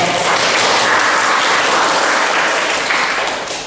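Loud, dense applause from an audience at a teacher-training classroom practice session, a steady wash of clapping that holds for several seconds and tapers slightly at the end, with no talk over it.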